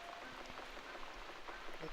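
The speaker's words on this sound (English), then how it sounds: "like we got the rain back." Steady rain pattering in the video game The Cat Lady, a soft, even hiss of drops on surfaces, faint and continuous with slight flickers of individual drops.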